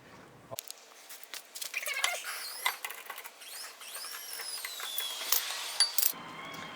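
A brake caliper piston on a 2005 Hyundai Sonata 2.4 L is slowly pushed back, giving a close, faint run of creaks, clicks and light metallic scraping over a quiet background.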